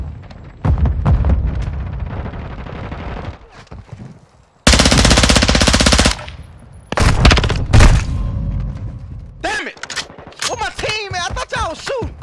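Gunfire in Call of Duty: Modern Warfare 2, loud bursts of automatic fire and heavy booms in several clusters, with talk and game sounds between the volleys.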